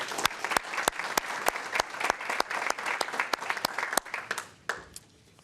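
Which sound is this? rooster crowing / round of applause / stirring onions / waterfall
round of applause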